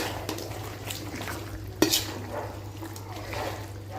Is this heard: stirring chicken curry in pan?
yes